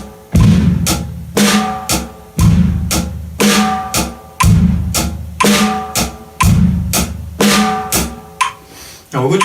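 Kick drum joins hi-hat and snare in a steady rock-style beat over a metronome, with punchy low thumps, sharp snare cracks and regular cymbal ticks repeating evenly, close and clear without any voice.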